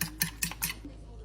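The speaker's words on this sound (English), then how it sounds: "And then I'll just whisk it all up" A whisk beats an egg mixture with vanilla, nutmeg and cinnamon for French toast, four quick rhythmic clicking strokes against a bowl, close and fairly soft.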